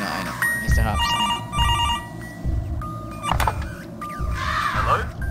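An old-style telephone bell rings in the horror video game Mr Hopp's Playhouse, several loud rattling bursts separated by short pauses over low rumbling in-game ambience.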